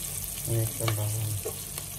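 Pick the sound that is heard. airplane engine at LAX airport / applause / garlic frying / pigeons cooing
garlic frying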